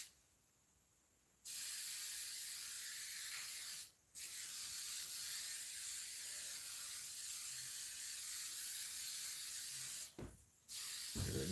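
Spray adhesive hisses from an aerosol can in a few long bursts separated by short pauses, close and loud, with a faint click of the nozzle between sprays.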